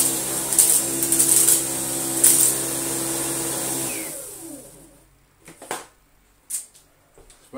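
A cordless stick vacuum, a Dyson V11 Absolute, runs on its low power setting with a steady loud whir and high whine. After about four seconds it cuts off, leaving quieter scattered bumps and clicks.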